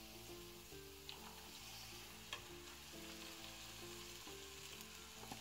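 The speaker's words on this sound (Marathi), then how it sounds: "आपण आता याच्यामध्ये मूग घालूया." Mung beans tossed into a pan of frying masala paste for a Maharashtrian mugachi bhaji, sizzling quietly and steadily with light stirring clicks and a soft background hum.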